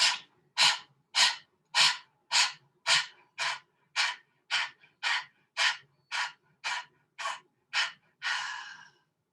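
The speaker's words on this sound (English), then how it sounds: "Take a breath in." A person breathing in a steady rhythm, about fifteen short, close, airy breaths evenly spaced, ending with one longer exhale, with no talk.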